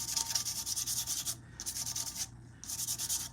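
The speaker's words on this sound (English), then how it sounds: "So you need to go ahead and sand down your cup." Regular-grit sandpaper rubs across a coffee cup in three steady bursts of scratchy sanding, close and fairly loud, with brief pauses between strokes.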